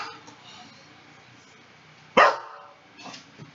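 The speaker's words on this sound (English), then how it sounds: "Let me go let my dog out." A single sharp dog bark rings out close and loud indoors, followed by a fainter yip, after quiet background sounds.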